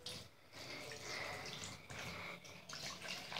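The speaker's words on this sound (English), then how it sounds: "you're gonna take your water and pour some of it in" Water is poured onto cotton taken from diapers, a soft continuous trickle and splash that runs faintly and steadily with small dips, alone without talk.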